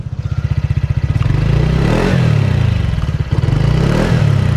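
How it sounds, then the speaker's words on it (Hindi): A 2025 TVS Ntorq 150 scooter idles with a rapid thumping exhaust pulse, then is revved in two loud swelling blips before settling back, close to the exhaust with no talk. "काफ़ी स्पोर्टी सा एग्जॉस्ट नोट मिल रहा है।"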